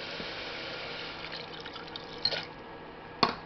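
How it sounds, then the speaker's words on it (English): Water poured from a cup into a pot of mushroom soup cooking with oil, a soft continuous trickle with a couple of sharp splashes near the end, close and fairly quiet. "Let's pour in water."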